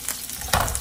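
Garlic and onion tipped into hot oil in a pan for an eggplant and egg dish, giving a brief sizzle that swells as they hit the oil, with a faint stirring scrape.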